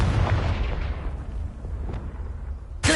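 A Confringo spell blast in Hogwarts Legacy, a heavy booming explosion that rumbles and fades over a few seconds, followed by a sharp new burst right at the end.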